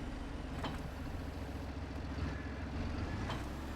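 Tractor engine in Farming Simulator 22, a steady low droning rumble with a faint periodic throb that runs continuously under the gameplay, with occasional brief higher clicks.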